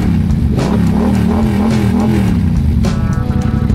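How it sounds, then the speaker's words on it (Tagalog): A 700cc motorcycle revving loudly and close by, a continuous deep engine roar that rises and falls for several seconds with no pauses. "Dahil pag-angkas mo si Carla, dapat ingat ka lang bro kasi mabilis to, 700cc ito eh."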